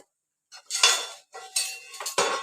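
A metal lid lifted off a heavy-bottomed pot of tomato rice, with a couple of close scraping clanks and ringing metallic rattles in quick succession.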